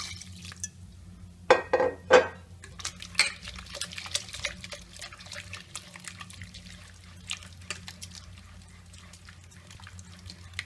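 Water added bit by bit to maida flour in a pot and stirred into a smooth, lump-free batter for sour papad, heard as faint wet sloshing with a few soft clinks near the start, alone and fairly quiet.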